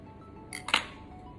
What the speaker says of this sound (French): Piquez le fond de votre pâte pour éviter qu'elle gonfle